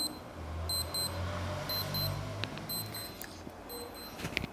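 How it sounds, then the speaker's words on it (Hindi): Repeated pairs of high, thin electronic beeps from a Casio G-Shock sports watch alarm chirp in a steady rhythm over low background noise and a few soft clicks. "ये हमारा पीएम पे अलार्म बोल रहा है"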